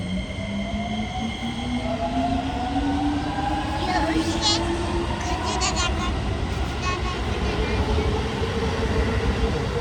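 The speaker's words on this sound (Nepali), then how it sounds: "अब ट्रेन आएपछि हामी ट्रेन चढेर हाम्रो घर जान्छौँ" A train passes through a station in Tokyo, Japan, loud and close, with a steady rumble and an electric motor whine that climbs in pitch as it goes by; a voice speaks briefly.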